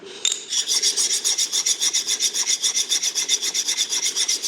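Knife blade sharpened on a hard, fine red hanzan whetstone, heard as a steady, rhythmic rasping rub with even back-and-forth strokes, close and loud with no voices.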